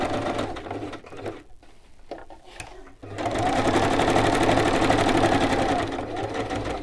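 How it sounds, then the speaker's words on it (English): A domestic sewing machine stitches down a pocket on a garment, starting with short hesitant bursts and then running in a steady, fast, close-up mechanical whir for several seconds. "I'm stitching down my pocket"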